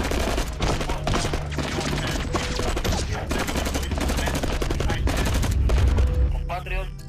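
A firing squad in a movie lets loose a loud, sustained fusillade of rapid gunfire, dense overlapping shots rattling on for several seconds before tapering off, with voices and shouting mixed in beneath.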